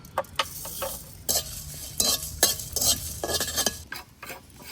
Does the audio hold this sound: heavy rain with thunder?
no